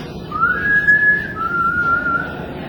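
A person whistles a long, wavering tone that slides between two pitches, imitating an eerie, ghostly whistle.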